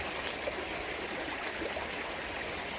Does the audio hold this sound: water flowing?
yes